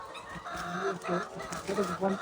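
Chickens cluck close by on a poultry farm of about 1750 birds, a busy overlapping chatter of short clucks and calls from several hens over a couple of seconds.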